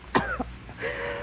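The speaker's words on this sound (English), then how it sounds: "You got a bad cough." A single rough, throaty cough in an old-time radio drama, close and fairly short, followed by a brief breathy rasp.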